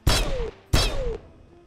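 Gunfire aimed at a car in the battle royale game PUBG: two loud, close bursts about half a second apart, each with a sharp impact and a ringing tail that fades away, with no voices.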